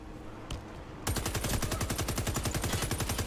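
Gunfire in the shooter game Warface: after a quiet start with a lone shot, a sustained automatic burst rattles in a fast, even rhythm until the end.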